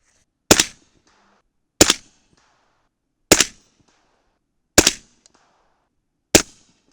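A suppressed 300 Blackout rifle fires 240-grain Sierra MatchKing subsonic rounds: five sharp, fairly loud cracks spaced about a second and a half apart, each decaying quickly into silence, with no voices.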